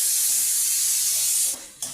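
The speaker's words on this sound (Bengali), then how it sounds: "ছোটো ছোটো কুচানো পেঁয়াজগুলোকে আমি এরপর ভেজে নেব ভালোভাবে।" Chopped onions sprinkled with salt fry in a pan for a papaya, potato, chana dal and drumstick ghonto, giving a loud, steady sizzling hiss that dips briefly near the end before surging back.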